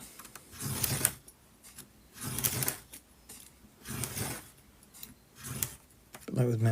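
Hard cladding material is cut in repeated passes, giving about five rasping strokes at an even rhythm, each a scraping swell that fades between passes, close by.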